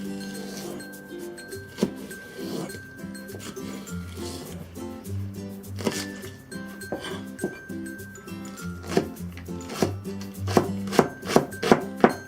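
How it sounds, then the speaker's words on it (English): Green onions minced with a knife on a cutting board: steady rhythmic chopping that speeds up into a run of sharp, quick strokes toward the end, with soft background music beneath. "let's mince the green onions"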